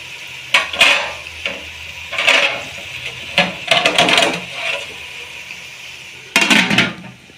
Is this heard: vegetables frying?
yes